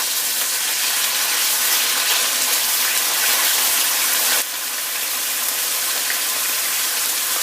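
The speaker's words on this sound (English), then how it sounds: "I added about 2 tablespoons of oil and I'm going to fry." Chicken frying in about two tablespoons of oil over a high flame, a loud steady broadband sizzle that runs unbroken, with a slight drop in intensity about halfway through.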